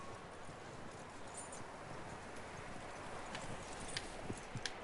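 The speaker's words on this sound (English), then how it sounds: "That looks like a decent horse." Steady clip-clop of horse hooves in the Red Dead Redemption 2 video game, a continuous rhythmic trot under a wash of outdoor ambience, moderately loud with a few sharper hoof strikes near the end.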